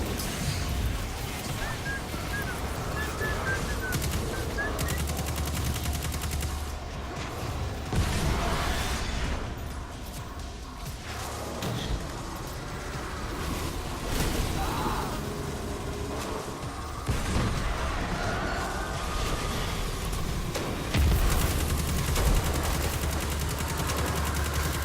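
Enemy gunfire erupts in Destiny 2, a dense, continuous barrage of shots and bursts that stays loud throughout, with a few heavier impacts mixed in.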